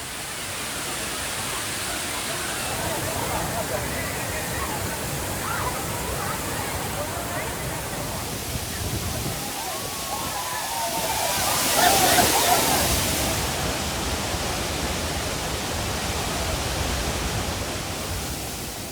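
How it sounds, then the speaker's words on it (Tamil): Thirparappu waterfall in Kumari pouring steadily, a dense, continuous roar of falling water that swells briefly midway, with a voice speaking over it. "குமரியின் குற்றாலம் என்று அழைக்கப்படும் திருப்பரப்பு அருவியை நோக்கி சுற்றுலா பயணிகள் குவிந்து வருகின்றனர்"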